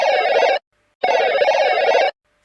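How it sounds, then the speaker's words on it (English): An alien phone rings in two loud electronic bursts, each about half a second to a second long, with a short silent pause between them. "The alien phone next to me made a startled noise, as if it too had been afraid to break the silence"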